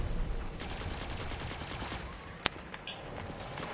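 Rapid automatic gunfire in the game Destiny 2 rattles in a steady stream over loud game noise, with a sharp single report standing out near the end.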